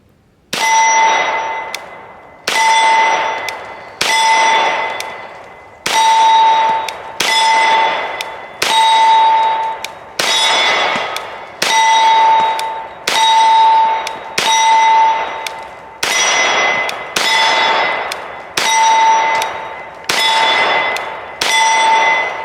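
Bullets from an H&K Mark 23 pistol strike a steel target about fifteen times in a steady rhythm, each hit a loud, sharp metallic clang with a ringing tail that fades before the next impact.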